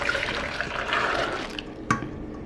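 Liquid ice cream mixture for strawberry ice cream pours from one container into another in a steady splashing, gurgling stream that tapers off, followed by a brief clink near the end.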